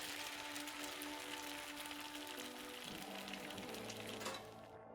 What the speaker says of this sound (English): Something sizzles in a pot.